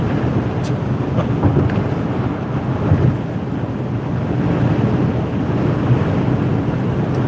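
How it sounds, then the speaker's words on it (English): Strong wind blows over open land in South Dakota, producing a loud, constant low rumble and buffeting against the microphone, with no voices. "And this wind is kicking out here."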